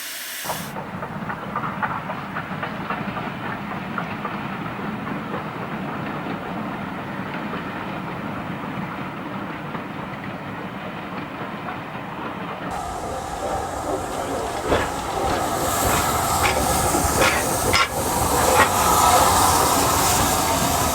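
A Bulleid Pacific steam locomotive running, heard from its cab with a constant roaring hiss and rumble that grows louder and busier, with rhythmic clatter of wheels.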